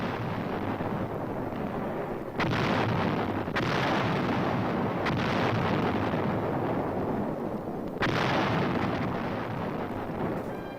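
Heavy 155 mm artillery guns fire in the Korean War as Chinese forces advance, a dense, sustained roar of blasts and rumbling with several sharp louder bursts, loud and continuous throughout.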